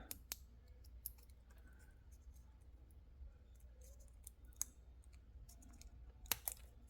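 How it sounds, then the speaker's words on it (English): Small scissors snipping an Invisalign-style dental aligner, a few sharp isolated clicks spread over quiet room tone, close and faint with no talking. "I'm gonna check out these scissors. I got some little scissors."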